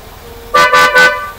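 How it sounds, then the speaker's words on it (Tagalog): A European car horn honks three short, loud toots in quick succession, close by, after a moment of quiet idling. "Sige, busina mo nga."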